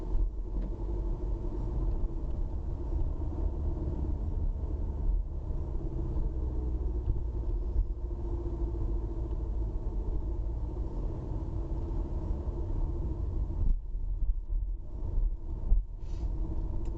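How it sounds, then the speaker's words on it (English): Car engine and road rumble heard from inside a car driving through downtown streets and neighborhoods of Kenosha, Wisconsin, as a steady low drone with no talking. "My car sounds like, I don't know why it's making that sound."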